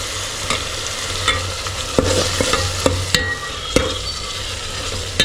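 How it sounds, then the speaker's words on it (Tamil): Chicken is being stirred in a hot pan, with a continuous sizzle broken by repeated sharp scrapes and knocks of a spatula against the pan. It is loud and close, with no voices. "இது வழியாக போட்டதுக்கப்புறம் நல்லா கிண்டி விட்டுக்குங்க"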